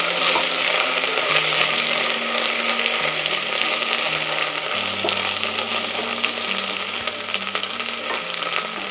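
Ginger garlic paste sizzles and fries steadily in a hot pan for a tomato rice dish, a dense continuous crackle with occasional stirring scrapes and no talking.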